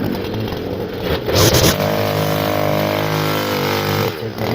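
A handheld brush cutter engine runs steadily right after starting, a loud, close buzzing drone with a brief rev early on and a slight dip near the end.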